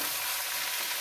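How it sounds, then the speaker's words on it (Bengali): Bottle gourd pieces sizzle steadily in a frying pan as they are stirred, a constant dense hiss with faint scraping, close and continuous. "লাউগুলো দিয়ে এবার একটু নাড়াচাড়া করে"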